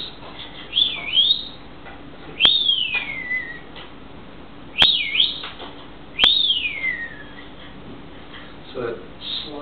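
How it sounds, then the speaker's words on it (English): Eastern pewee song at Lake George: clear, high whistled phrases that slur upward and then slide down, heard about four times at a steady pace over soft background noise. "The eastern pewee is a wonderful bird that has a unique song"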